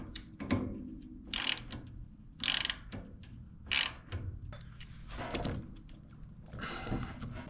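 A socket ratchet tightens an 8 mm fitting on a Vanguard V-twin engine repowering a Case 220 garden tractor, giving several short bursts of fast clicking separated by brief pauses, close and fairly loud, with no talking.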